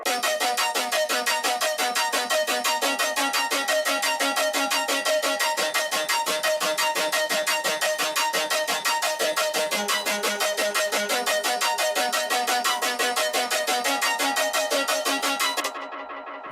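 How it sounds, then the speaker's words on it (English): Synthesizer lead from a preset patch driven by an arpeggiator, playing fast, even, repeating bright notes continuously for about sixteen seconds before dropping away. "I added one more lead, and this time I had added a arpeggiator here."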